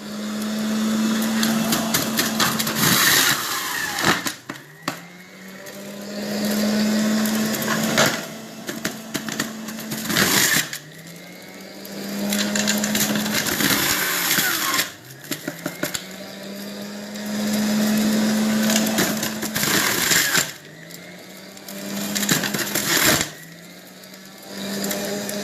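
A motorized juicer whirs in repeated bursts while limes are fed through, each run rising in pitch and then stopping, with short pauses and clatter between bursts; no one talks.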